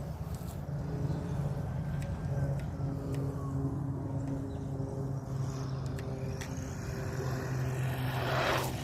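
A Holyton 9205E RC car driving at its highest speed setting, a high, steady electric motor whine running nonstop at close to moderate range with slight pitch shifts as it accelerates, ending with a brief louder rush.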